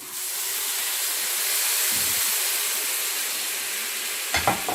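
Homemade chicken broth poured over freekeh in a hot pot, producing a steady loud hiss and sizzle of steam throughout, close up, with a brief clatter near the end.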